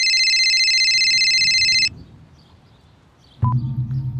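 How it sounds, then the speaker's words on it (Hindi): Phone ringing in a crime drama scene, a loud steady electronic ring tone for about two seconds, then near silence, then a beep and a low hum as the call begins. "तभी मेरा फोन बजा।"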